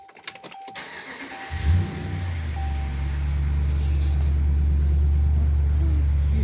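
A 2014 Ram with the 5.7 Hemi V8 and a Thrush Hush muffler starts after brief clicks and cranking, then settles into a steady, deep, fairly quiet idle rumble, warm rather than cold.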